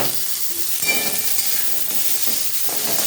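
Fried vegetable stems, potato and lentil dumplings are stirred in a hot pan, with continuous loud sizzling and hiss broken by scraping stirs, close up and with no voices.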